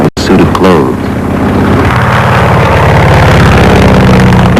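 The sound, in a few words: aircraft engine running in flight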